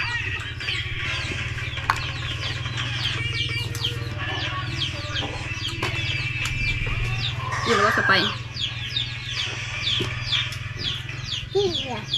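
Chicks and chickens cluck and cheep steadily close by on a farm near a pond, with bursts of chirping over a constant low hum, and people talk at times in the background.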